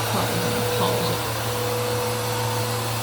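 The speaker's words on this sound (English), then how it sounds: "You're about to hear just a sample of the vacuum cleaner" Household vacuum cleaner running on hallway carpet, a loud, constant motor whine and airy roar with a steady low hum, continuous and unbroken throughout.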